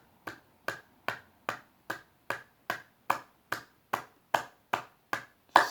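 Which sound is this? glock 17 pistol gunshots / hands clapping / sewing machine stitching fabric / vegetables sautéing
hands clapping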